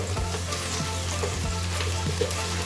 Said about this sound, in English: we need to saute the tomato paste to release the fragrance